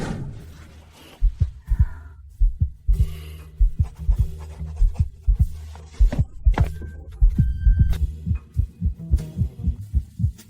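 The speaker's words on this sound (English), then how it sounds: "Why is your heart beating so fast?" A rapid, pounding heartbeat thumps close and loud in a steady quick double-beat rhythm, with a faint hum beneath and no talking.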